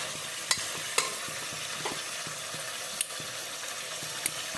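Meat curry in a pan on a medium gas flame is stirred with a low, even simmering crackle. Soft, regular clicks and scrapes of the utensil recur about every half second, with a few sharper knocks, and no one talks.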